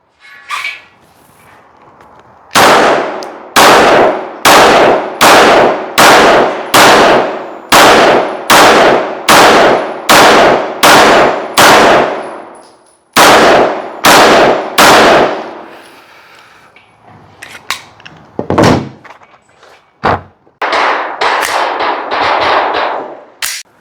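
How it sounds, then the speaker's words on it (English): Rapid pistol fire from a Glock 49 Gen 5 MOS at steel targets: about a dozen loud, evenly spaced shots with ringing metallic impacts, a brief pause, then three more shots and a few scattered clangs and later bursts. "I'm going to aim at these targets here and try to go rather quickly."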